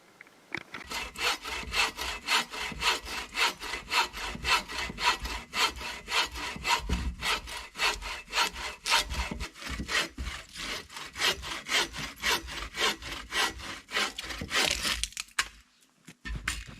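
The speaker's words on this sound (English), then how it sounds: "saw ergonomically with two hands" A hand saw cuts through wood held with two hands, making rhythmic back-and-forth rasping strokes that are steady and close for most of the clip before stopping.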